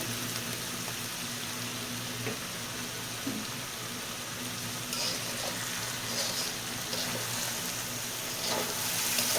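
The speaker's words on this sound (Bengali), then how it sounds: "এটার চুলার আঁচটা কিন্তু এখন মিডিয়াম আছে, খুব ঘন ঘন নাড়তে হচ্ছে আমার" Dried loitta fish frying in oil in a pan over medium heat for a Bengali dry fish bhuna, with a continuous close sizzle and bursts of stirring that grow louder toward the end, no talking.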